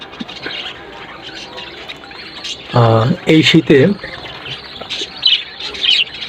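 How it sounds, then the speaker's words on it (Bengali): Pet budgerigars chirp in short bright bursts, with several louder tweeting calls clustered in the middle, while a person speaks briefly over the birdsong. "আমার বাজরিকার পাখি"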